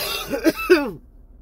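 Two short, harsh coughs close up, followed by a brief raspy exhale and then quiet.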